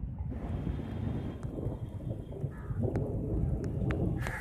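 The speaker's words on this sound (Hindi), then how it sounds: "बारिश बहुत तेज़ हो गई" Heavy rain pours steadily in an outdoor setting where parrots, pigeons and sparrows are kept, a dense continuous hiss with a low rolling rumble of thunder and a few faint bird chirps.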